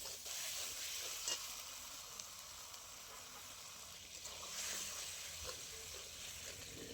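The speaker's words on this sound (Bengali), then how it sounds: "অল্প জল দিয়ে বেশ কিছুক্ষণ কষিয়ে নেব।" Fried eggplant stirred into spices in a pan with a little water, giving a steady soft sizzle and hiss with occasional scrapes of stirring, close and even throughout.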